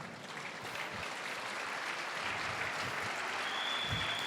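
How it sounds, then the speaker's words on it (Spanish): A church congregation applauds during a sermon, a dense, steady wash of clapping from many hands that holds at an even level throughout, with no voice speaking over it. "Den una ofrenda de palmas a Jesús."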